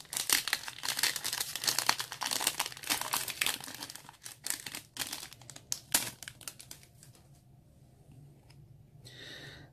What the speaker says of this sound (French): car je vais quand même ouvrir pas mal de boosters